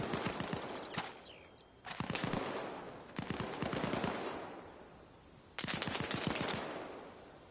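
Distant RPK machine gun fire in Arma Reforger, coming in four separate sustained bursts of rapid cracking shots with short pauses between them, fairly faint and heard alone.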